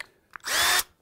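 A power drill tightens a hoop on a red wine fermentation barrel in one short, loud burst of under half a second, close by, preceded by a faint click.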